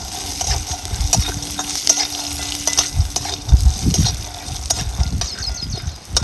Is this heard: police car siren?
no